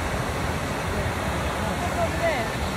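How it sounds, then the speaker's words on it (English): A waterfall seen from a hillside family picnic spot, a steady broadband rush of falling water heard at a distance, continuous and even under light outdoor ambience. "That's the waterfall."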